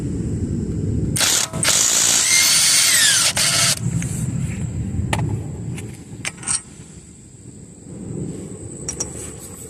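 A power tool with a 13 mm socket spins a bolt loose on a 2004 Volvo S60 AWD during front hub work, with a loud burst of high whirring, then several short clicks and ratcheting taps in a quiet garage.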